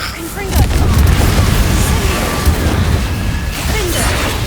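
Confringo fire-blast spell in the video game Hogwarts Legacy, a loud booming blast over dense combat noise, with a voice talking over it.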